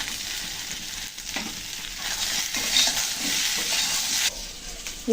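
Tilapia curry with ridge gourd and potato, with slit green chillies added, stir-frying in a pan: a constant close sizzle under repeated scraping strokes of a spoon, with no voice present.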